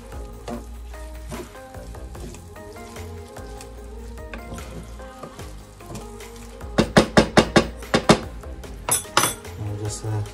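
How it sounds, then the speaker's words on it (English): Beef mince fried with about two tablespoons of tomato puree sizzles steadily in a pan while being mixed, then a quick run of sharp utensil clinks against the pan comes close and loud near the end. "I add some tomato puree. It's like around 2 tablespoons. Just mix it all together."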